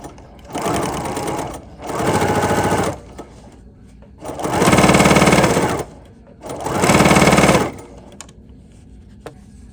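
A Bernina sewing machine fitted with a double cording foot runs in four loud, steady bursts of rapid stitching, separated by short pauses.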